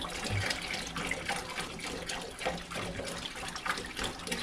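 Hot water pours steadily into the tank of an 8-gallon Vevor ultrasonic cleaner, a continuous close splashing and gurgling flow with no talking.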